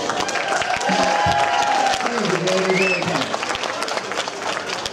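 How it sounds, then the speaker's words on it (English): An audience at a pun contest show claps and cheers, a dense burst of applause mixed with crowd noise while a host's voice speaks over it. "Come on, bigger applause for that."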